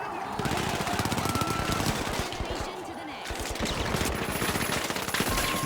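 A turret fires in the game The Finals, a dense, rapid, sustained stream of gunshots that runs almost unbroken through the clip, with a voice talking over it.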